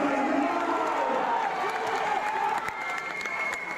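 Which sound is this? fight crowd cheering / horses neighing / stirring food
fight crowd cheering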